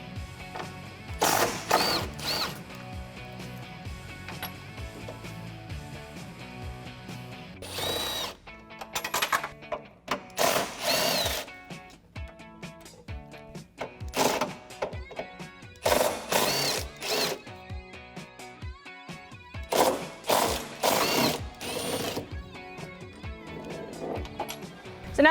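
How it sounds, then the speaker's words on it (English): Ratchet with a 13mm socket working loose the hinge bolts on a Jeep Wrangler JL tailgate, heard as repeated bursts of rapid clicking separated by short pauses, close and fairly loud, with no talking. "remove the 3 bolts on either hinge. I'm going to be using a 13mm socket in order to do that"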